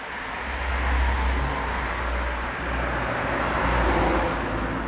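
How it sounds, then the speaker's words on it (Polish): Cars drive along a road beside a house veranda, a steady rumble of traffic with passing vehicles swelling and fading, moderately near and continuous, with no talking. "samochody jeżdżą po drodze jak widać"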